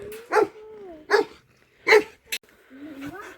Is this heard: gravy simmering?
no